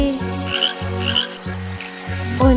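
Cartoon green frogs croak in a steady, evenly spaced series of four deep, buzzy calls, loud and close, with bright children's-song music running underneath.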